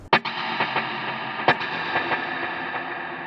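Electric guitar notes through delay and reverb pedals, struck twice, each followed by repeating echoes that trail off into a long reverberant wash, with no voices.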